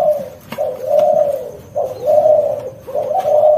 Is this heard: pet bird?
yes